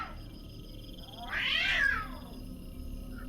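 A single drawn-out cat meow rises and falls in the middle of an otherwise quiet, hissy stretch of a spoken horror story, clear but not loud.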